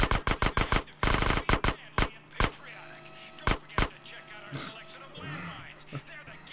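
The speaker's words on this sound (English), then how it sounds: "I just shot his head apart there." Rapid bursts of gunfire from GTA San Andreas, a quick string of loud sharp shots at the start, then scattered single cracks with quieter game noise between them.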